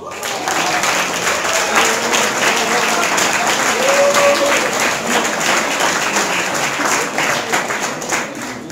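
A crowd at a youth-centre band supporter contest semifinal in Langen breaks into loud, sustained applause and clapping that holds steady for several seconds, with a voice briefly audible in the din.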